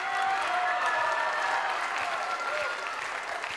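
Audience applause at a school wind band concert, a steady dense wash of clapping that stays loud and even throughout, with a faint voice briefly audible beneath it.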